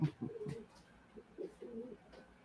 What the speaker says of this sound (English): Yeah, you do hear them, and you hear doves too.